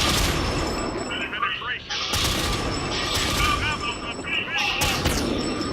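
An American tier 1 light tank fires in World of Tanks, sharp cannon blasts with clanking mechanical reload sounds between them, loud and close under a voice talking.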